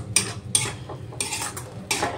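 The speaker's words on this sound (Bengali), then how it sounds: "এবার ভালো করে শিমের সাথে এই তিলের যে পেস্টটা দিলাম ওটা ভালো করে মিশিয়ে নিতে হবে।" A spoon scrapes and clinks against a pan as sesame paste is stirred into flat beans, four distinct bright scraping strokes in an uneven rhythm, close and clear with no talking.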